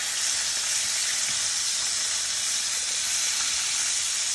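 Cod fish fries in a pan on low heat, giving a steady, even sizzle with a soft hiss that stays constant throughout.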